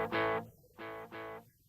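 A ping pong echo effect from an effects unit repeats a buzzy, distorted tone in three bursts that pan left, right and center, each repeat clearly separated.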